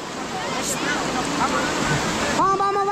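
A rushing river in a flash flood surges with a continuous broadband roar of churning water, loud and close, while voices shout over it near the end.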